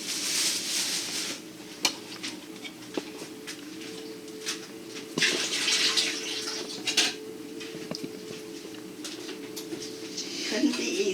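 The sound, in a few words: rinsing produce under running tap water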